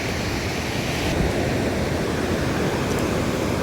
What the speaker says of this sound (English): You know the way these waves are crashing with each other.